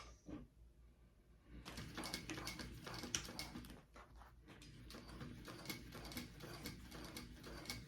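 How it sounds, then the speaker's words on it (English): A sewing machine stitches through six layers of vinyl, including a snap tab, on a wallet, starting after a short quiet pause and then running as a steady, close mechanical patter of stitching. "you are sewing through what, 6 layers of vinyl with your snap tab included"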